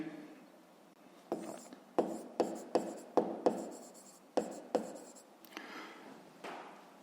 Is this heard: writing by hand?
yes